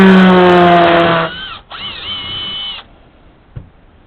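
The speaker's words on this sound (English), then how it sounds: "So I'm going to drill down through there" A power drill whines steadily at close range drilling into a metal Lee bullet mold, cutting out briefly and then resuming for about a second before stopping, followed by a faint clack.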